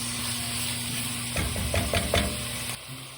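Vegetables soften in a hot pan with a steady close sizzle, broken midway by a few quick stir scrapes and knocks before the frying settles again, with no one talking.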